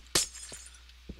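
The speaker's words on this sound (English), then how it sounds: "I've got to break all this glass." Glass shattering in a Minecraft-style building game as cathedral windows are knocked out: one sharp, bright crash, followed by two smaller, fainter breaks spaced apart, with no talking.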